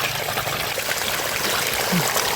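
Water flows steadily from a stream's source in rural countryside, a continuous close trickling and babbling rush with no pauses.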